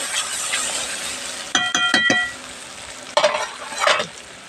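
Duck meat being stirred into a fried spice paste with pickle, loud sizzling broken by clinking and scraping strokes of a utensil against the pan.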